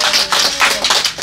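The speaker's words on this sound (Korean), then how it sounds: "이야, 박수." Brief bursts of hand clapping from a small group at a church Bible lesson, close and uneven, lasting about a second.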